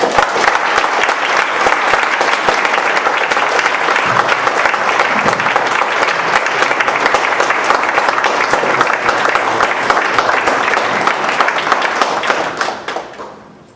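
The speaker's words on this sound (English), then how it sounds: "giving Regional Director, Mr. Patrick Santillo, a very warm Georgia welcome with a loud and thunderous applause" A large audience at a formal event in Georgia gives loud, sustained applause, dense steady clapping lasting about thirteen seconds before tapering off at the end.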